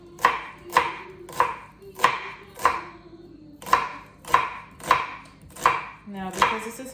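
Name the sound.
chopping onion for pizza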